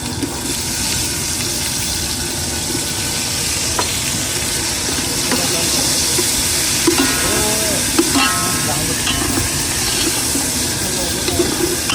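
Curry leaves and tomatoes fry in hot oil on a fishing boat off Mumbai, a loud, steady sizzle with stirring scrapes and a few clinks in the foreground, and a faint voice appears now and then.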